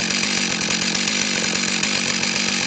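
A Strikemaster Mag 2000 gas ice auger with a 40-inch, 8-inch-wide auger runs continuously with a loud, buzzing two-stroke engine drone, steady and close, with no talk.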